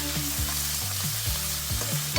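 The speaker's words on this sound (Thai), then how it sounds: "กระเทียมสับของเราเริ่มมีกลิ่นหอมได้ที่แล้วก็ตามด้วย สะโพกไก่ลงไปผัดต่อเลยครับ" Bite-sized chicken thigh pieces stir-fried with chopped garlic in a pan for Thai garlic and fresh chili chicken give a steady, close sizzle, with low background tones underneath.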